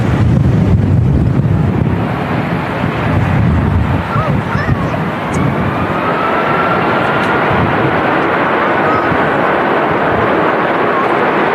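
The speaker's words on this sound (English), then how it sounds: "see and hear how windy it is in Manchester today." Strong wind at Manchester Airport roars and buffets the microphone in a continuous, loud rush, with a faint engine-like drone blended into the gusts.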